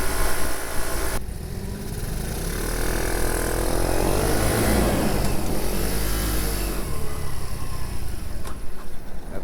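A small Chinese-made Monkey-style motorcycle rides along while other vehicles pass it one after another, its light engine droning steadily under rushing wind and louder passing traffic that swells and fades close by.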